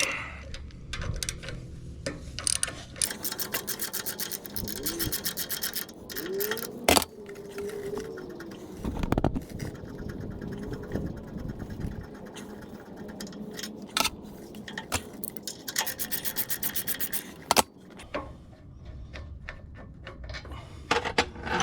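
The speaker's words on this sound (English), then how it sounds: "I'll pull this cover off. Just take it out with the flat screwdriver, put this to the side." Metallic clinks, scrapes and taps as a brake cover is pried off a Harley-Davidson Road King Special with a flat screwdriver, irregular close handling sounds with sharp knocks throughout.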